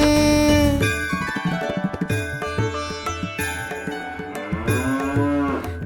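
A cow lets out long, loud moos that open and close the stretch, set against bright music in a Tamil children's rhyme.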